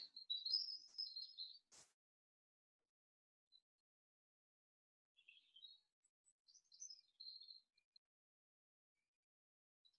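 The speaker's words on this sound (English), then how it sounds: "maybe the birds singing outside" Birds chirp and sing in short bursts with quiet gaps between them, a bit distant and faint, with no voices.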